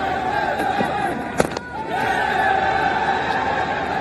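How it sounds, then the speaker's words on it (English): A dense Nepalese crowd roars steadily at a Hong Kong Sixes cricket match between Nepal and Australia, the cheering swelling loud and constant with one sharp knock partway through. "The Nepalese crowd, the volumes going up."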